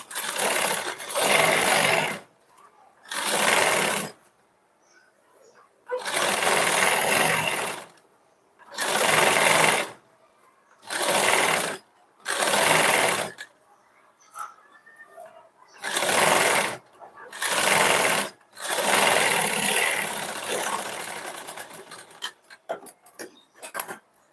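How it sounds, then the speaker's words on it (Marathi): A sewing machine runs double stitching along a blouse seam in short bursts of rapid whirring, about ten runs separated by brief pauses, close and clear with no talk. "त्यानंतर याच्यावर लगेच आपल्याला डबल शिलाई मारून घ्यायची"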